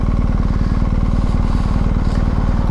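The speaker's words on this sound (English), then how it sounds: "Nothing like the super pleasing sound that a motorcycle can make." A BMW R1250GS HP boxer engine runs close and loud, throbbing at a steady, rapid pulse with a deep, even drone and no voices.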